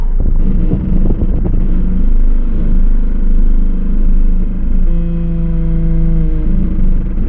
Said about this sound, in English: That's the handbrake dragging.